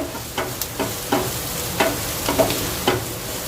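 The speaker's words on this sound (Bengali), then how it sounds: "বেশ ভালো করে একসাথে ভেজে নিলাম।" Onion, ginger and garlic fry together in a pan on low flame, a steady sizzle punctuated by a few quick stirring scrapes and taps.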